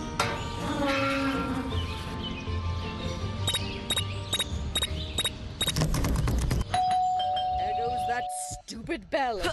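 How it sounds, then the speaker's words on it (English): A doorbell ringing in the mobile video game Scary Teacher 3D, several repeated chimes over busy, noisy game sounds with voices, ending in a sustained tone and clatter. "Bell again."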